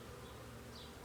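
Honey bees hum steadily inside a hive opened for a spring inspection, a faint continuous close-up drone with no talking.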